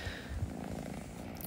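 A cat purrs steadily and close by, a low continuous rumble with a faint high squeak near the end.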